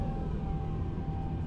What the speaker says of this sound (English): Engine run out of fuel shutdown sound